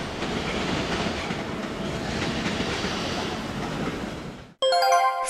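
A Kintetsu electric train rolls through a busy station with many track switches. A steady rumble and clatter of wheels on rails lasts about four seconds, then cuts off abruptly into a short musical jingle.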